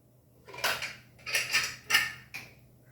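A metal lid being set onto a cooking pot of dal, giving several close clanks and rattles in quick bursts, then a softer final tap.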